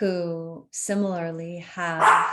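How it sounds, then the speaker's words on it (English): A dog barks in short, close, voiced yips, three bursts within a couple of seconds, while someone talks over them. "Sorry for my dog barking."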